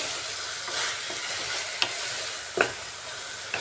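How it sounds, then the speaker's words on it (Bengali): Boneless chicken with softened tomato sizzles gently in a pan while it is stirred and sautéed, a soft continuous fry broken by a couple of quick utensil scrapes. "চিকেনটাকে আর একটু ভালো করে কষিয়ে নিচ্ছি।"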